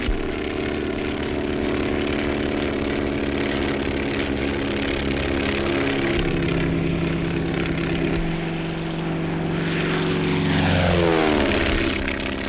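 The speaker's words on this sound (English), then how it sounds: "The planes must be light and fast so they can be easily maneuvered." A light, fast propeller skywriting airplane from 1935 drones steadily overhead, its engine a continuous buzzing hum with shifting pitch, growing slightly louder and sweeping past near the end.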